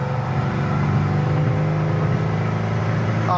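A 1975 Mercury Comet restomod cruises in fourth gear at about 70 mph and 3,000 RPM, its engine giving a steady, loud droning hum with road noise throughout.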